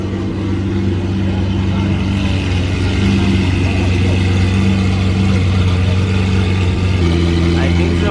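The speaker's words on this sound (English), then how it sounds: "That Aventador just started up." Lamborghini Aventador engine running at a steady idle after starting, a loud, constant low mechanical drone with a slight change in pitch partway through, among people talking at an outdoor car meet.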